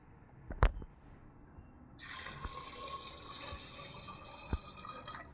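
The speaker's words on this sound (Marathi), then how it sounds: "छोल्याच्या थोडं वरती पाणी ठेवलंय बघा मी." Water runs from a tap into a pot of chickpeas, a steady moderate stream that starts partway through after a sharp clink, with a few faint knocks under it.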